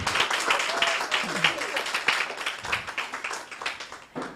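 Book launch audience applauding at a university event, steady dense clapping that swells and ebbs over a few seconds, loud and close with some voices mixed in.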